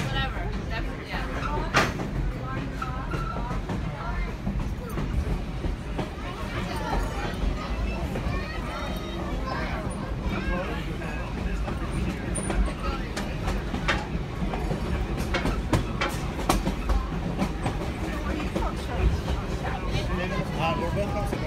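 A heritage passenger train rolling along rails with steady clattering and rumble from on board, irregular clicks over the tracks, and people talking throughout.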